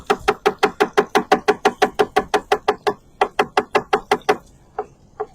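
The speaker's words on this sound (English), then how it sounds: "Cut a few mushrooms over here." A kitchen knife slices mushrooms on a cutting board in fast, crisp, regular knocks close by, a short break, then another quick run that trails off into a few isolated taps.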